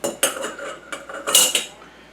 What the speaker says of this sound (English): so we'll take this stainless steel funnel,